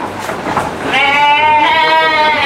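A full-blood Dorper ram on a large sheep and goat farm gives a loud, close, drawn-out bleat that swells after a brief quieter start and holds steady to the end.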